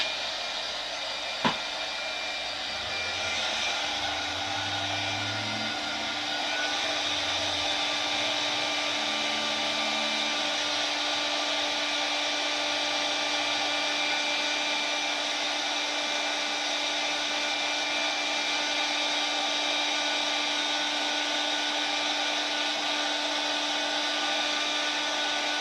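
A heat embossing tool blowing hot air over a stamped card, a steady, close, continuous whooshing hum that runs unbroken throughout with a small click near the start.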